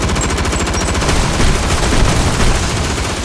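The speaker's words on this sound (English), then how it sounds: "He's too worn out to dodge my rapid fire!" Rapid, continuous gunfire from an anime battle between Garou and heroes in One Punch Man, a dense loud stream of shots without pause throughout.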